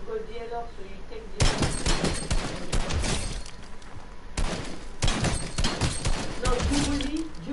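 Bursts of rapid gunfire from a shooter video game come in two dense volleys with sharp cracks and thuds, set against quieter game ambience and faint background voices.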